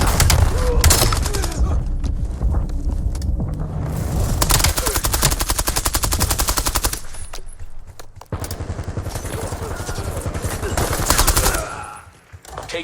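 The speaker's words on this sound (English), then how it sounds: "Enemy marksman shooting at us." Continuous rapid automatic gunfire in a Call of Duty Black Ops 7 multiplayer match, loud and dense with short pauses, layered with other battle sounds.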